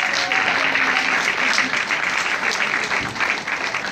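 Audience applause at a talk about sickle cell disease, a continuous loud patter of many hands clapping for the whole stretch, with a faint voice briefly underneath.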